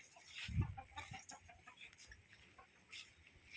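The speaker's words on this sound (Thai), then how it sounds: "ไก่ตอดกินหมดเลย" Chickens cluck softly while pecking at rice laid out to dry in the sun, a few short low clucks and rustles against a quiet outdoor background.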